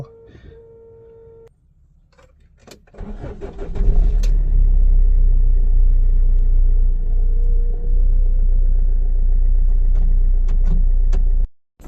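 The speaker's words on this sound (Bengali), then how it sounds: "চলে আসলাম গাড়ির ভেতরে, গাড়িটাকে স্টার্ট করব।" A car engine starts after a warning chime and settles into a steady, deep idling rumble heard from inside the vehicle, loud and continuous until it cuts off.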